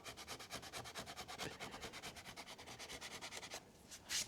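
A chisel scrapes along the edge of a wood panel for a DIY camper kitchen unit in quick, even rhythmic strokes, close and fairly quiet, ending with a brief pause and a final scrape.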